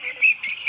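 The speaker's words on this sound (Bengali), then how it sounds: "এই দেখো ছোটো ছোটো মুরগি, কি সুন্দর কিউট ছোটো ছোটো একবারে মুরগি।" Baby chicks at a poultry farm during vaccination, cheeping in a close, high, steady peeping chorus with brief louder bursts, no talk.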